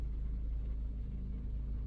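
A Maruti Brezza engine idles smoothly after an overhaul, giving a steady low rumble with no knocks or surges that holds at an even level throughout.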